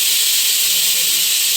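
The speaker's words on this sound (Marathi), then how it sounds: "आता कुकरची वाफ गेल्यानंतर हा कुकर उघडायचा आहे" Steam hisses steadily and loudly from a pressure cooker holding mutton biryani after several whistles, a continuous close rush of air with no talk over it.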